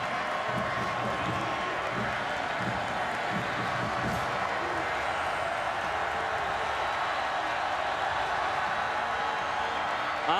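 Football stadium crowd at a college game, Georgia Tech at South Florida, roaring steadily at a distance on second and goal, a dense continuous wash of cheering and noise with a commentator's voice over it.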